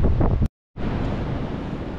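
Strong coastal wind buffets the microphone in a loud, continuous roar, broken by a brief dropout before the rushing gusts resume.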